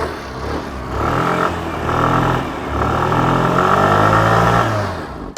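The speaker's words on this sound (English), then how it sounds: "Let's check out how it sounds." Suzuki Avenis 125 scooter with a side-hung single-barrel exhaust, its engine revving up in a few swells and settling back, a steady close mechanical drone throughout.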